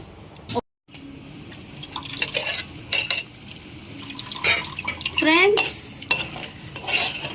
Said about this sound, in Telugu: నేను ఈ రోజుకి పప్పు గుత్తితో రుబ్బుతున్నాను ఫ్రెండ్స్.